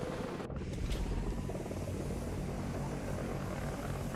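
AH-56 helicopter engine in the combat flight game War Thunder, a steady loud rotor and engine drone running throughout, with no talk.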